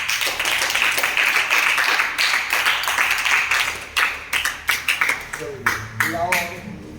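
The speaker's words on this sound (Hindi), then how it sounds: "इसको थोड़ा सा ताली बजा करके इसको इंकरेज करो" Students clapping in a classroom during a mathematics lesson, a scattered crowd of hands applauding that thins into separate, uneven claps toward the end, with a voice speaking over the last moments.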